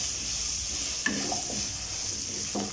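Sliced okra and curry leaves fry in a pan, a soft continuous sizzle with a few quiet stirring scrapes and clinks, fairly faint and close.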